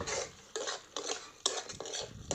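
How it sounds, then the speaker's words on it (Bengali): Neem leaves stirred and fried in a pan for neem pata chorchori, with a spatula scraping and clattering in bursts against the metal, roughly every half second to a second, over a faint sizzle. "নিমগুলো দিয়ে আমি ভালো করে এক দুই মিনিট আবার নেড়ে চেড়ে কষিয়ে নেব"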